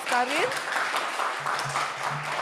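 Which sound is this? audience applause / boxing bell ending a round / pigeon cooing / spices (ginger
audience applause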